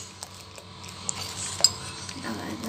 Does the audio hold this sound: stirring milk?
yes